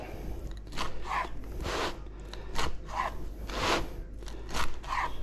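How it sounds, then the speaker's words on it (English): A knife slicing through a freshly baked homemade pizza, with repeated crunchy cutting strokes through the crust at close range and no talk. "So once it comes out, cut it."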